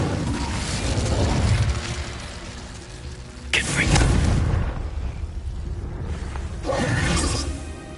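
A fiery Incendio spell explosion from Hogwarts Legacy: two loud, broad whooshing bursts about three seconds apart, each rising over a steady rumbling game background.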